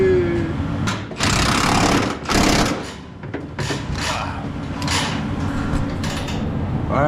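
A power tool tightens rear shock bolts on a 1994–2001 Ram 1500. It gives close, loud mechanical buzzing and rattling bursts, two strong runs followed by shorter whirring spurts and a steady lower mechanical hum.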